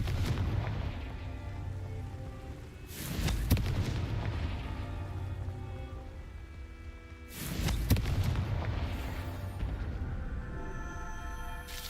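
Two fiery spell blasts from the Confringo curse in Hogwarts Legacy, each a loud booming burst with a crackling tail, spaced a few seconds apart over a low rumbling ambient background.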